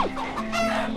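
A live chicken clucks steadily and close by, its calls rising and falling across a single second with no talk.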